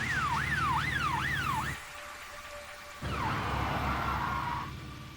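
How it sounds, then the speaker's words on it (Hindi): A wailing police siren rises and falls in a fast, repeated sweep, drops out briefly, then returns as the vehicle passes nearby. "भाई वो देखो, वो तो पुलिस की गाड़ी है।"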